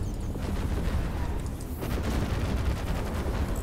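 Spaceship weapons fire in the video game Fractured Space makes a dense, continuous rumble of rapid blasts and crackling bursts that stays loud and steady throughout.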